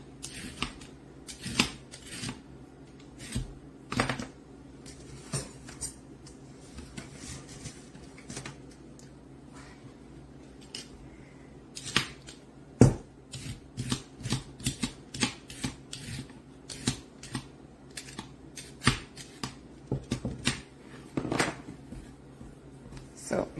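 Fruit peeled by hand for a homemade punch: a long series of sharp tearing, snapping and rustling bursts at irregular intervals, close to the mic, with talking heard between them.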